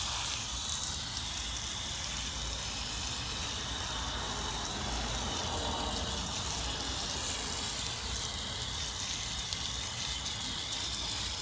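Water sprays steadily onto plastidipped car wheels in a continuous hissing rinse, close and fairly quiet, with no talking.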